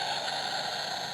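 A baby's sound puzzle piece shaped like an airplane plays a brief, steady, buzzy electronic tone when its flap is opened and closed, heard alone and close.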